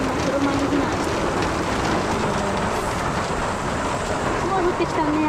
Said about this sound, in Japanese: すごい降ってきたね、雨。